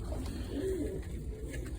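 Young breeding pigeons, squabs being checked for culling, give a soft low cooing murmur that runs steadily and fairly close with a faint brief call partway through.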